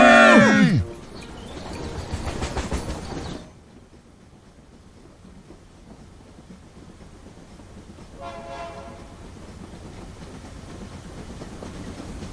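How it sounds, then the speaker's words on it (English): A toy train in a kids' app passes by with a loud rumbling, bell-like clatter for about three seconds, followed by a quieter steady hum with a faint tonal chime near the middle. "Another train is passing by."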